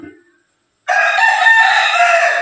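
A rooster outside a home kitchen lets out one loud, close, sustained crow that starts abruptly after a brief near-silent pause and carries on to the end.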